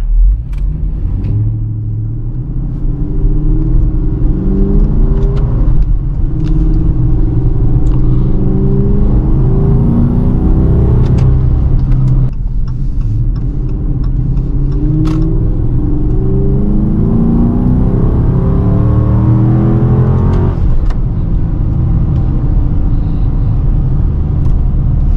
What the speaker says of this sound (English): it sounds like a stock exhaust kind of, but it's not.